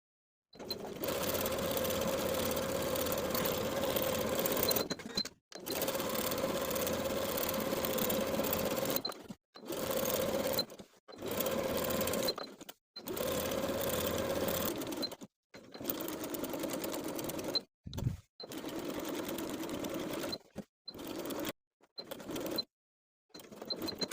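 A sewing machine edge stitches along the inner folded edge of a blouse placket, running in repeated steady bursts separated by short pauses, close and alone with no talk.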